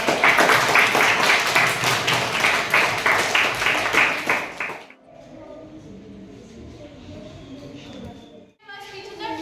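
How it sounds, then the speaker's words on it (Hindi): Children at a school event clap continuously in a fairly loud, brisk rhythm for about five seconds, then the clapping stops abruptly and quiet talk follows in the room. "क्लैपिंग करते रहो भाई।"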